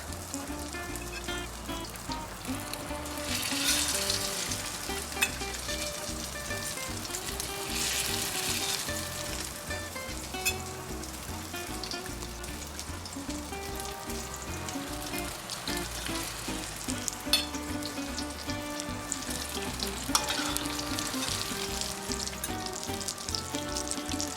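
Cheese-stuffed peppers sizzle in hot oil over moderate heat, a continuous close crackle with occasional louder pops and brief stirring clatter, with swells of stronger frying partway through.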